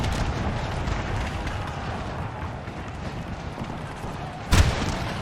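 Booming artillery fire in the video game Napoleon: Total War during a massive 3v3 grand battle, a dense continuous rumble of distant cannon with one sharper, louder blast near the end.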